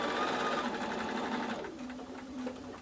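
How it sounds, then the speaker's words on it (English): Sewing machine stitching through layers of felt for a pumpkin, a close, steady mechanical whirr of rapid needle strokes that slows and softens toward the end, with no talk. "And continue stitching."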